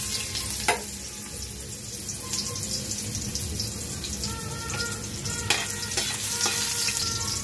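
Ginger fries in hot oil in a pan while mussels are being cooked, giving a close, steady crackling sizzle with a few sharper pops and spatters and no talk over it.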